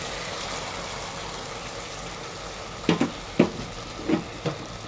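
Steady broadband sizzle of spice paste frying with potatoes in a pan, with a few scraping stirs near the end; no voices.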